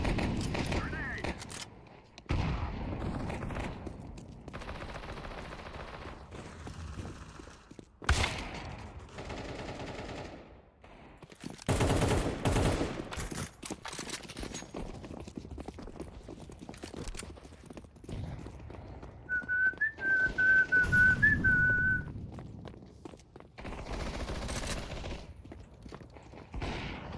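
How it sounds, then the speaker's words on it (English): Mac submachine gun firing in a video game, rapid bursts of gunfire scattered through a busy stretch of play, with someone talking over much of it. "This is my annoyance gun right here. I only use the Mac to annoy people."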